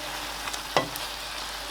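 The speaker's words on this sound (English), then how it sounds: "Cook the boiled eggs for a minute." Boiled eggs frying in a pan for egg biryani, a brief steady sizzle close by with one sharp scrape or stir partway through, no voices.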